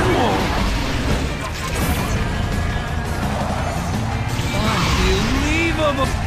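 Explosions and crashes in the Cars 2 racing video game as targets are blown up: dense, loud, continuous booming and clattering, with electronic tones and a voice talking over the top.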